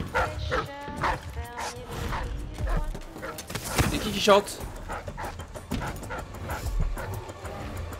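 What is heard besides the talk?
dogs barking in the video game Dishonored 2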